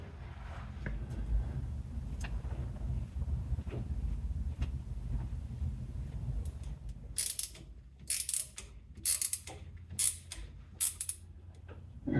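Ratchet clicks in short bursts while the fill plug is tightened on the differential of a 1994 Chevy K1500 pickup, after several seconds of low rumbling handling noise; the crisp, close ratcheting comes in quick repeated runs with brief pauses.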